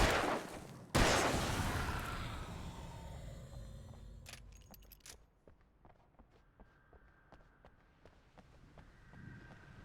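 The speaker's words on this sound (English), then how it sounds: "Okay, we've got the garage keys." In the video game Alan Wake, a set of garage keys is picked up with a short metallic jingle after a heavy impact, followed by scattered footsteps and small clicks fading quietly.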